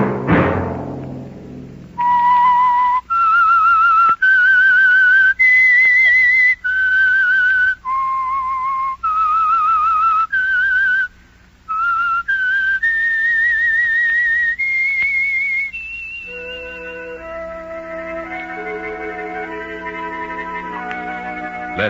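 A clear, echoing whistled tune, the theme signal of the 1940s radio drama The Whistler, sustained notes rising and falling in a melody, ending on a long held tone with a soft chord beneath.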